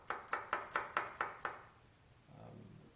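Knife mincing a large clove of garlic for salsa on a cutting board, seven quick, crisp chops in an even rhythm, close and clear, then a soft scraping shuffle.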